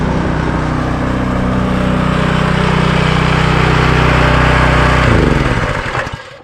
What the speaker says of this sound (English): after you're done with your work, you want to shut the pressure washer off